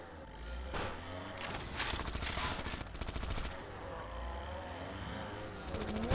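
Rapid bursts of automatic gunfire from a gun power-up in the PC game Zombie Driver, several rattling volleys separated by short gaps, loud and close over a rumbling game background.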